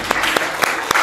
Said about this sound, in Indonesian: Pemenangnya berikan tepuk tangan